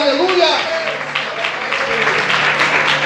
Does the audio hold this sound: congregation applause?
yes